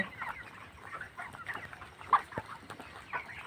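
Broiler chickens cluck in a poultry farm shed late at night, a steady murmur of soft clucks from many birds with a few sharper calls rising above it, and no voices.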